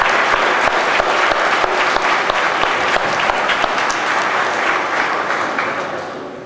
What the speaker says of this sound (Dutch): ik zou graag, lieve mensen, een applaus hebben voor juffrouw Petra,